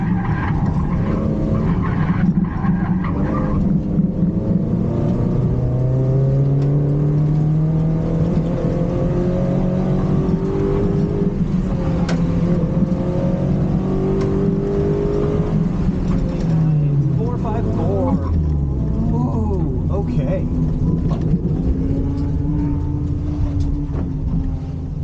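A car driven hard through a fast autocross lap on airport tarmac, engine revving and rising and falling in pitch through gear changes, with tires squealing in corners, loud and continuous throughout.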